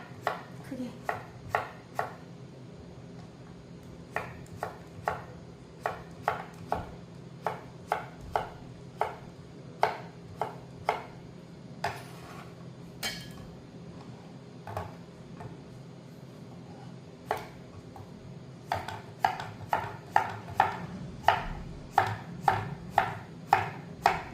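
A knife cuts cucumber on a cutting board in crisp, sharp chops, close and distinct. The chops come in quick bursts with short pauses, some evenly spaced and some in rapid clusters.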